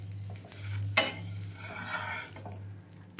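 A paratha is flipped in a pan: a sharp metallic clack of the turner against the pan, then soft scraping and faint sizzling over a steady low hum.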